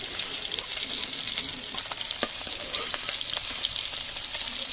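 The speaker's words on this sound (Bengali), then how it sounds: "মাছগুলো ভাজা হয়ে গেছে, এবার তুলে নেবো।" Small hilsa fish fry in a lot of oil, giving a steady, loud, hissing sizzle with scattered crackles and pops throughout. Close up, with no talking.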